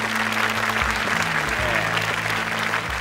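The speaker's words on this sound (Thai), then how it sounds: "ขอเสียงปรบมือด้วยครับ" Audience applause for a panel of five judges at the True Innovation Awards ceremony, a steady wash of clapping over a low hum with some voices mixed in.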